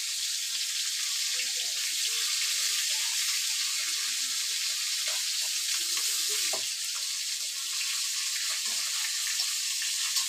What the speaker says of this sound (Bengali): কড়াইয়ে তেলটা ভালোভাবে গরম করে দিলে মাছ ভাজতে ভালো হয়।